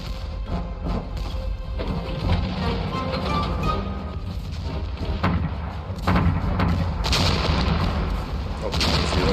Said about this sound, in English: New Zealand artillery there.